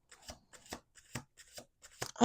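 A deck of playing cards is shuffled in quick riffling bursts, about seven short flutters close by, with no talk.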